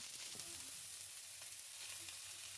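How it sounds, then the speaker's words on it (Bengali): Chopped cabbage sizzles and crackles in hot oil in a wok, the first of the vegetables fried for a spring roll filling. The sizzle is steady and close, with a few soft stirring scrapes and no voices. "তারপর ওই কড়াতেই আমরা আরেকটু তেল দিয়ে সব কেটে রাখা সবজিগুলো খুব ভালোভাবে ভেজে নেব।"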